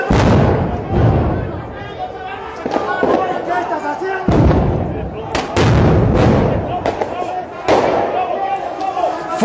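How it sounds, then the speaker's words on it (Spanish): Loud, heavy dynamite blasts boom repeatedly, close by, one after another with crowd noise and shouting voices between them, during a clash among coca growers at a coca market. "Fuertes explosiones de cachorros de dinamita en este lugar."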